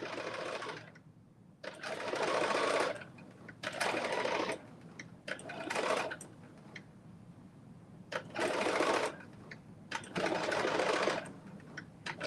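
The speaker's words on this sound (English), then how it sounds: "I am in the process of doing a top stitch" A sewing machine top-stitches a pair of biker shorts in several separate loud bursts of fast whirring, each lasting about a second or so, with quiet pauses between them.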